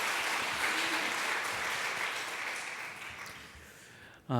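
A church congregation applauds the choir after a Sunday worship service, steady dense clapping that fills the room and slowly thins before a voice begins at the very end.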